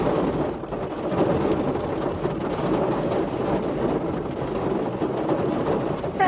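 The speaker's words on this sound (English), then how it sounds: "I don't even know if y'all can hear me because this rain is coming down." Heavy rain pours down steadily outdoors, a dense continuous roar with no breaks, loud and close throughout.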